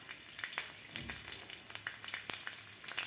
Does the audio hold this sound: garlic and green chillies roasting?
yes